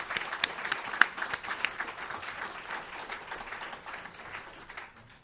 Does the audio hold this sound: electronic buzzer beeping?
no